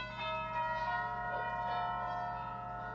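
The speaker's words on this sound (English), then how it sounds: "McGee, that's the new set of bells in the church down the block." Church bells from a church down the block ringing, a sustained sequence of overlapping bell tones with long resonant hum, steady and moderately loud.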